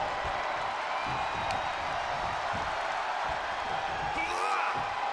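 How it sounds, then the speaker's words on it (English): A wrestling arena crowd in WWE 2K22 roars as a steady, dense wash of cheering and noise that fills the whole stretch, with commentary-like talk running over it. "The sound of this crowd is deafening"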